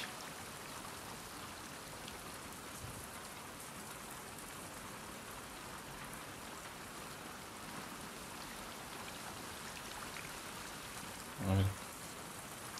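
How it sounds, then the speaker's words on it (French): Steady rain falling in the video game The Last of Us Part 2, a constant even hiss that fills the scene, with a brief low thump near the end and a short spoken word. "Apprécions un peu la pluie."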